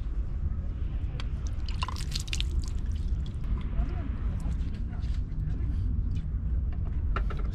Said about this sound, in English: So you just pour water in that and you can wash it.